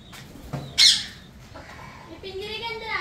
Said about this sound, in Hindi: पिंजरे के अंदर आती है चिड़िया अंदर।